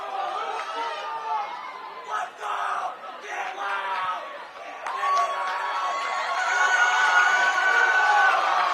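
Home fans of Lone Peak shout and cheer from the stands at a high school boys soccer semifinal, a distant crowd roar with chants and whoops that swells louder toward the end, under a commentator's voice.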